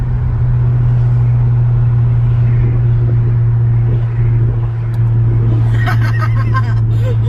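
A 2019 Honda Civic Sport with its muffler deleted idles with a deep, steady exhaust drone, loud and close. Faint voices and some clattering rise near the end.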